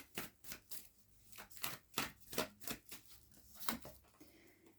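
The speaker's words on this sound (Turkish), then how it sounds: "Peki bakalım kartlar başka neler söyleyecek?" Tarot cards are shuffled by hand in a quiet indoor setting, giving a run of soft, crisp riffling bursts in an uneven rhythm, close and faint.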